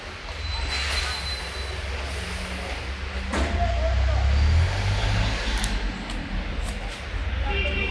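A vehicle pulls into the Gondal APMC market yard for unloading, its low engine rumble holding steady and then swelling louder midway, with brief clanks and squeaks over the drone.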